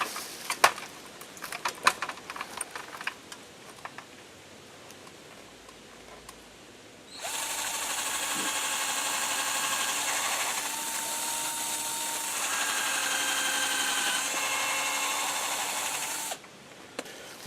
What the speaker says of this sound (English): We start by drilling a hole in the tree, pilot hole to put this in.